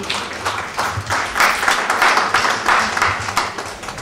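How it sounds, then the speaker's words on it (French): Audience at a church event applauding a speaker, a steady wash of many hands clapping close by with faint voices underneath. "Acclamez pour ma soeur."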